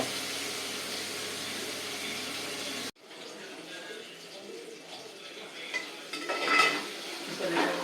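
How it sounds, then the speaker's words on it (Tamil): Gentle sizzling and stirring of onions and tomatoes sautéing in oil in a pan, with utensils scraping and clinking at moderate volume after a loud steady hiss cuts off abruptly. "இதையும் லேசாக ஒரு வதக்கு வதக்கணும் ஆயிலில் வதக்கணும்"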